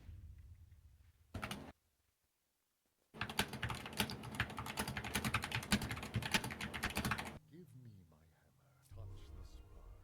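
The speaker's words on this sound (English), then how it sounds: "has started making typing noises" Rapid computer keyboard typing clatters loudly for several seconds after a brief silence, with a few quieter sounds and faint movement around it.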